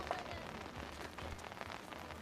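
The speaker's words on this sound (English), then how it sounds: "Uh-oh, we've got some raindrops, folks." Raindrops begin falling on surfaces at an outdoor baseball game, a soft, scattered patter of light rain heard faintly and steadily on its own.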